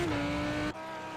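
A race car engine in a racing video game, at Silverstone, whines at a high steady pitch, then cuts off abruptly, leaving a quieter rumble for the last half second.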